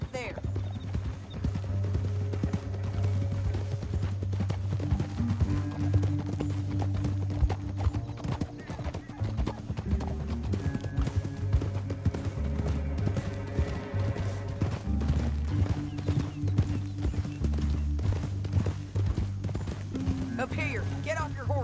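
Rhythmic clip-clop of horse hooves galloping steadily beneath Red Dead Redemption 2 game music and occasional speech, continuous and fairly close.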